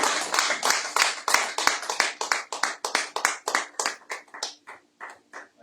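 A church congregation clapping in a steady, brisk rhythm to acclaim the Lord during a Sunday service, many hands striking together in sharp repeated beats that gradually thin toward the end.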